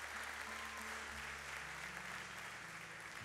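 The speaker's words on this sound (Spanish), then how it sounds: "Dale un aplauso al Señor" A church congregation claps together during a sermon on fasting, a faint but steady wash of applause over a low sustained music or organ tone.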